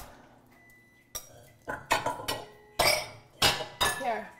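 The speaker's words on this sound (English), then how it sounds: "Now just put it in a bowl and stir it." A utensil clinks against a bowl during stirring: irregular sharp knocks and scrapes, clustered in quick bursts, close and fairly loud over a quiet room.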